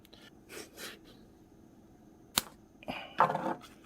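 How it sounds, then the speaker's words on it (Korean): Scissors snip at tape being wrapped for soundproofing around a plumbing elbow: a few quiet, scattered snips, then a sharp cut and a short rasping burst near the end, with no voices. "가위가 더럽게 말을 안 듣네"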